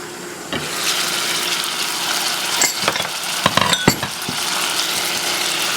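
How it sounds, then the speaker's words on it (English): Chicken pieces frying in olive oil with onions in a pan, a steady broadband sizzle throughout with a few sharper crackles and spatters near the end, close and fairly loud with no talking. "we're frying the chicken a little bit with the olive oil and the onions"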